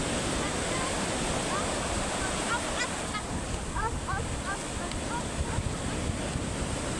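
Sea waves wash continuously onto the shore at Puri beach in Odisha, a loud, steady surf roar with wind, and faint chirps scattered over it.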